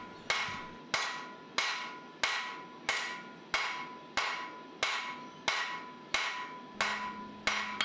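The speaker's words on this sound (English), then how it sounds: "Nothing will quite test your welds like drawing out the material with a very heavy blows along the line of the forge weld" A heavy hammer strikes a hot wrought iron and steel billet at the forge, drawing out the material along a forge weld. About a dozen loud, evenly spaced ringing blows come in a steady rhythm, close and with no talk.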